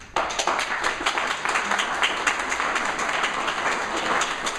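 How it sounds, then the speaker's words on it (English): Audience applause at a mayoral debate in Cudahy, a steady wash of many hands clapping at moderate volume through the whole stretch, without pause. "I would like you to hold your applause till the very end"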